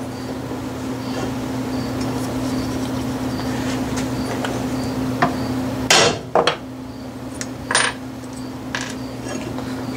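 A hammer strikes a number stamp into a metal dial for a Logan lathe, a few sharp ringing metallic blows, one a close double hit, over a steady hum of shop machinery.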